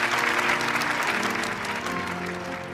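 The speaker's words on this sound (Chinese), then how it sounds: "现在我们再一次用热烈的掌声来祝贺今天的新人。" Warm applause from a crowd of wedding guests congratulating the newlyweds at a celebration, steady, dense clapping that holds for the whole stretch and eases slightly toward the end, with no talk over it.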